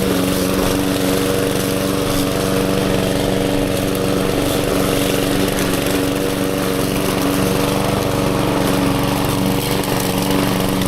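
A lawn mower engine runs continuously at close range, a loud steady drone with a buzzing tonal hum and no pauses.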